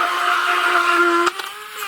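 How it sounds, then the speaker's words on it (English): An immersion blender whirs steadily as it blends eggs, then cuts off partway through and is followed by a few small clatters. "I'm using my immersion blender."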